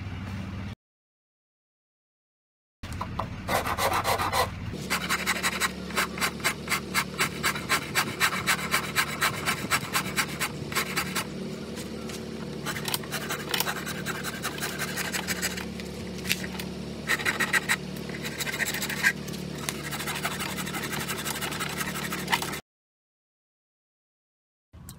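Steady, rapid rasping of a file or rasp shaping a wooden cigar box guitar neck, stroke after stroke for a long stretch, close and fairly loud, with brief silent pauses at start and end.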